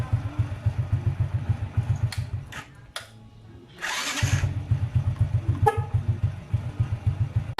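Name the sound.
Honda Wave 100 motorcycle engine starting with starter motor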